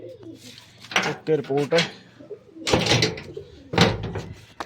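Pigeons coo around a backyard loft where grain has just been scattered for them, soft throaty calls mixed in with close, loud talking.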